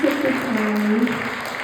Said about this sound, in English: one last round of applause, please, for the amazing women